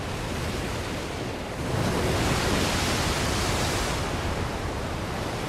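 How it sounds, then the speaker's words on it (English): Thrashing ocean waves at sea near a rocky island, a dense, loud roar of surf and wind that swells a little partway through and continues without break, with no voices. "Saul, all I hear is thrashing waves."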